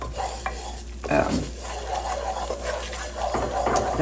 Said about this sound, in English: I'm going to just let it brown here and let it cook and simmer.